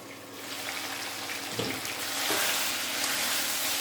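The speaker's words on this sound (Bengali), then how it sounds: "এইভাবে মশলা সবজিটাকে কষিয়ে নেব, আর একটু কষাবো।" Spiced vegetables sautéing in a pan for a koi fish curry give a steady soft sizzle with a faint stir or scrape midway, low and continuous throughout.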